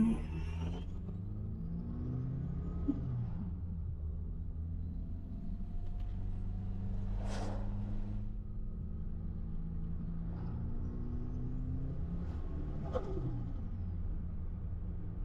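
A turbocharged Toyota 3RZ engine on its factory ECU idles steadily with a low, even rumble and small fluctuations in revs. A few faint clicks and knocks come through, and no one speaks.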